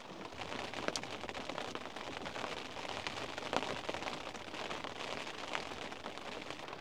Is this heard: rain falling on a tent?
yes